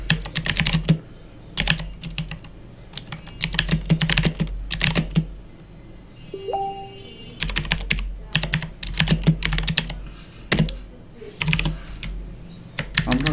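Someone types a greetings message on a computer keyboard: steady, close clatter of keystrokes coming in quick bursts with short pauses between them, no voices.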